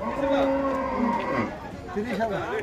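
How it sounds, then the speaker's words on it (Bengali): A cow moos in drawn-out, wavering low calls at a cattle market, near and clear, with a second shorter bellow following. "এই যে আর একটা গরু আসতেছে"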